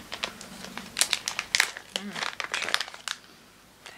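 A crinkly packet of lemon-scented tea is torn open up close, giving a burst of crackling, rustling bursts of plastic over about three seconds before it settles quiet.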